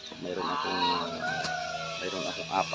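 Backyard geese, a flock of nine, give repeated nasal honking calls close by, overlapping one another in loud bursts with a couple of sharper honks near the end.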